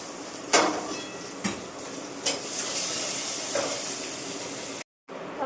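Onions frying and sizzling in a pan, a steady hiss broken by several sharp bursts as they are stirred, with a brief silent gap near the end.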